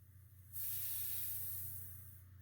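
Refrigerant vapor sprays from a non-pressure-limiting expansion valve in a sudden loud hiss. It starts abruptly, holds steady and slowly fades, over a low constant hum.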